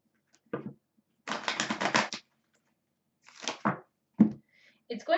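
Tarot deck being shuffled, a quick riffle burst of card flutter followed by scattered short flicks and snaps, fairly close, with a voice partly talking around it.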